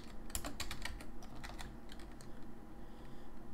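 Typing on a computer keyboard, with quick clusters of light key clicks that thin out into sparser taps, heard close and fairly quiet over faint room noise without speech.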